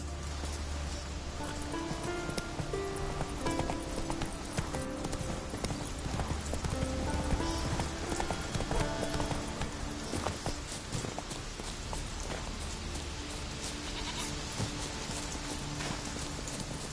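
Hooves of Roach, a horse in a video game, clip-clop steadily at a walk, close and continuous over a dense bed of rustling ambience.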